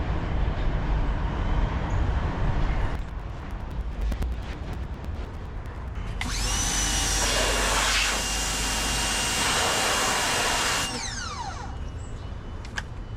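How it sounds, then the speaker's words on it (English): Pressure washer spraying outdoors to clean dirty gear after digging a backyard well, a steady loud hissing roar that kicks in partway through over a rumbling engine-like drone, then cuts back. "Now I'm using my pressure washer mainly to clean off all the stuff I got dirty over the past couple days."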